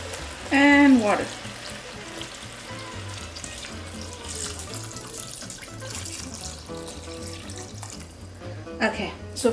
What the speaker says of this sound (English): Okay, so for now I'm only adding that much water.